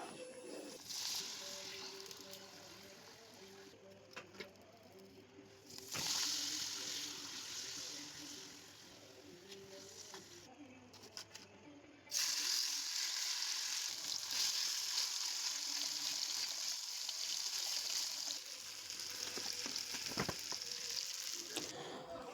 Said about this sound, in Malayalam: പപ്പടം പൊരിക്കാനുണ്ട് പിന്നെ കുറച്ച് ചിക്കനുണ്ട് ഉണ്ട് അതും കൂടി പൊരിച്ചാൽ മതി